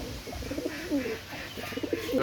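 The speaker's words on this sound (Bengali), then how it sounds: "খুবই ভালো মানের কবুতর, রেজাল্টেড কবুতর" Pakistani high-flying pigeons coo in a loft, a continuous overlapping chorus of low rolling coos from several birds close by, with no speech over it.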